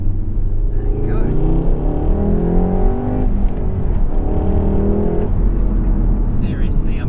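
A VW Golf R on Michelin Pilot Sport 4 tyres pulls hard after a shift into second gear, its engine rising in a loud, close, steady drone with rumbling harmonics, heard from inside the car.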